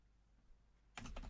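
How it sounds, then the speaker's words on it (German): Computer keyboard typing: a short cluster of quick, close keystroke clicks bursts in near the end of an otherwise quiet room-tone stretch. "Ich muss jetzt mal wirklich die Tastatur ranholen."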